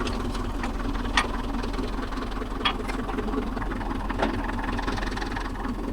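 Mahindra Yuvo Tech Plus 585 DI 4WD tractor engine running with the PTO engaged, a steady, close diesel rumble with a low throb and occasional clanks, no talk over it.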